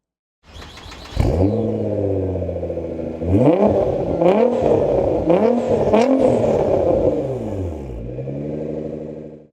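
A Liberty Walk-bodied Nissan R35 GT-R engine fires up and revs hard several times, each loud rising-and-falling sweep close by and alone, settling into a rough, burbling idle between blips.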